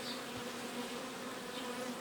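A steady, close hum of honey bees swarms over hive frames from an alpine-style hive during acacia and linden honey extraction, continuous and unbroken.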